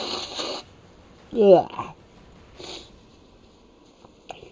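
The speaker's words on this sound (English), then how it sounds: "I gotta blow my nose." A sick person blows their nose: a short burst of breath and a wet, nasal honk, followed by fainter sniffs and a small sound at the end, with a brief groan spoken nearby.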